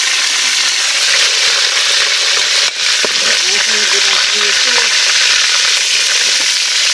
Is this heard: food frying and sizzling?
yes